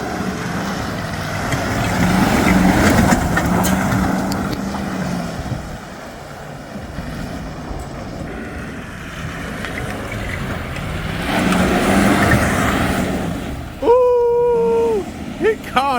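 A 2004 GMC 2500 Ultimate Denali pickup drives through mud, its engine surging and roaring in two loud swells with a wash of wind and splashing, and people talk over it.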